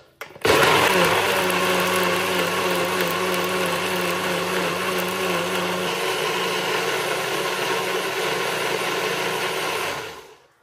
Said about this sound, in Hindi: आमचो मसालो आतां वांटून जालो.